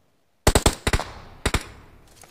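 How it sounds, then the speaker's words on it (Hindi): Gunfire in the BGMI / PUBG Mobile battle game: a close, sharp rapid burst of four shots, a quick pair, then a lone crack, each followed by a short decaying tail, with no voices. "हर तरफ से गोली चलने की आवाज़ आ रही होती है कि एक ए डब्ल्यू भी चलने की आवाज़ आती है"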